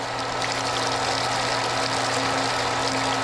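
A mud pump runs steadily during jet drilling of a water well, giving a continuous droning hum with steady tonal whine and watery rush, the pump sounding like it is failing after losing pressure while pulling muddy water.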